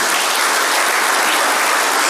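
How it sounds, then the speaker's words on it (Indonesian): Loud, dense applause from a church congregation, steady and continuous throughout, with no talking. "Tepuk tangan bagi Tuhan Yesus."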